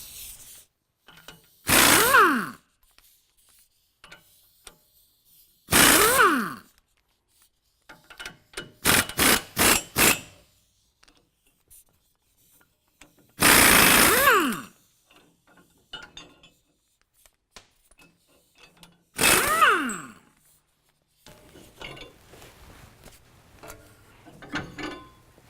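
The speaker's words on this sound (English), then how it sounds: "So now we're going to remove the 4 nuts holding on our U-bolts" An impact wrench zips off the U-bolt nuts on the axle of a 2015-17 Ford F-150 4WD during a lift kit install, in loud separate bursts: a few long whirring runs and a quick cluster of short rattling pulses.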